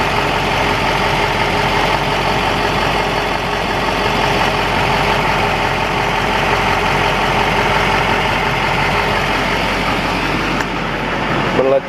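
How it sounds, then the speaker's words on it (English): A Duramax diesel truck engine idling after injector cleaning, a steady close rumbling clatter held evenly throughout, with some voice-like sound mixed in. "It's already idling a little bit better."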